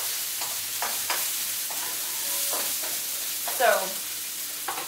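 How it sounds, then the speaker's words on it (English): Onions frying in a pan for spaghetti bolognaise, a constant hiss of sizzling broken by a few stirring scrapes, with a brief word spoken. "that's a nice bit of frying on your onions"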